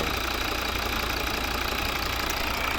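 A 2013 Volvo V60 2.0 D4 diesel engine idles steadily up close, a continuous rough knocking rumble with no voices.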